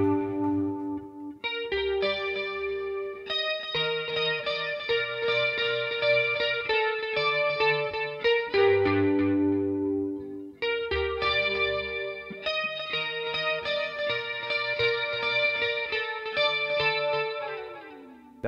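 Clean electric guitar run through a Headrush unit with compression, chorus, multi-chorus, reverb and delay, playing a steady arpeggiated chord pattern with shimmering, wide, echoing tails, heard alone throughout.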